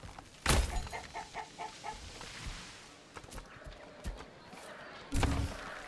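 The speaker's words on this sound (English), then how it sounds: "Come on, chickens. Do your job." Chickens cluck in a medieval farming village in Manor Lords, with a quick series of soft clucks, scattered clip-clop hoof-like knocks and a few louder thumps over faint ambient background.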